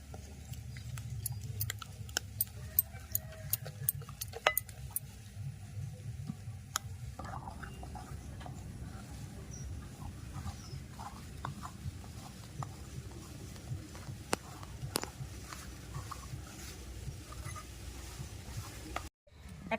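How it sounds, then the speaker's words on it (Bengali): Flour worked bit by bit into a soft dough for steamed ripe-mango bun bread, a faint, steady, squishy stirring and kneading sound with occasional small taps, low and close. "এক বাটি ময়দা আমি অল্প অল্প করে দিয়ে মিশিয়ে নেবো"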